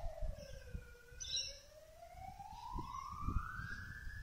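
An ambulance siren wails at a distance past a park with a playground, a faint rising and falling tone drifting by under soft background noise and brief bird chirps.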